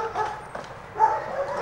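A German shepherd service dog barking during training: a few short, fairly faint barks and yips at a distance, heard alone without talk.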